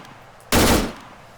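A single loud gunshot burst from a weapon fired over iron sights in the Arma 3 Exile mod video game, starting abruptly and decaying over about half a second against quiet background.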